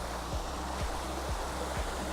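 Venford Falls, a waterfall on Dartmoor in wet, overcast weather, gives a constant loud broadband rush of falling water. A few faint low thumps recur under it at regular half-second intervals.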